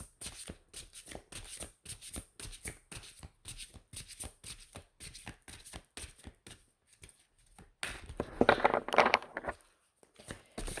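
A deck of tarot-style cards being shuffled by hand, giving a long run of quick papery riffles and flicks with a louder, denser burst near the end, close and alone with no talk.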